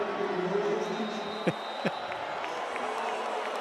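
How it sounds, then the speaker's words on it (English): Football crowd at Paulson Stadium roaring before a third down, a sustained wash of cheering with a couple of sharp whoops or shouts standing out near the middle. "Paulson Stadium getting into full voice ahead of a third down"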